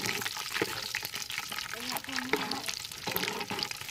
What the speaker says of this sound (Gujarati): પાપડ તળવા છે